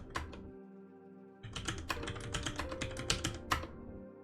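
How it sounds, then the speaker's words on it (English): Typing on a computer keyboard close by: a brief pair of clicks, a pause, then a fast burst of clattering keystrokes over a faint steady hum. "You catch your password listening to my keyboard"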